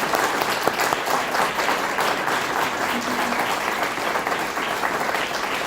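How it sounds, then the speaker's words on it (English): A chamber of commerce candidate forum audience applauds steadily, a dense, even wash of clapping hands that holds at full strength for several seconds. "Now's a good time for a round of applause for all the"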